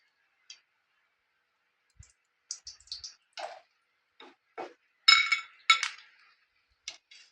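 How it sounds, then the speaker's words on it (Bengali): A metal utensil clinks against a pan and strainer while lifting fried chicken puffs out of hot oil, giving sparse, close, bright taps and scrapes spread across quiet gaps. "আমি এবারে এই যে তুলে নিচ্ছি, তেল ছেঁকে একটু তুলে নেব।"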